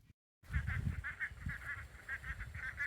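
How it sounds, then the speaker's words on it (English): Domestic ducks near water honk and quack in a rapid, repeated series of calls, moderately close, over low background rumble after a brief silent gap. "Those ducks are not liking the water, so he's trying to train them to go into the water"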